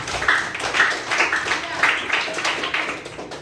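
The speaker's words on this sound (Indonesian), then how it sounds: "Oke, tepuk tangan buat Surya." A small group of people clapping in a classroom-style session for a student presenter, a short burst of uneven, moderately close claps with slight rhythmic pulsing, while someone talks over it.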